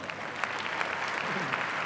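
An audience at a conference panel discussion applauds in a soft, continuous wash of clapping, slightly distant and steady throughout the short stretch.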